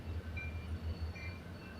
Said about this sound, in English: Oh, there's the train coming.